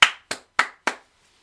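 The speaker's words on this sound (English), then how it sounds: "I gotta give you an applause for that one" A streamer claps hands four times in a steady, evenly spaced rhythm, each clap sharp and close, then silence.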